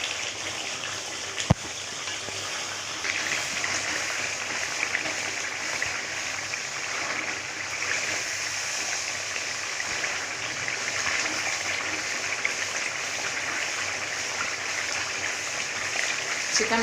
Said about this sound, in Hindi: टमाटर के गलने तक हम इसको भून लेंगे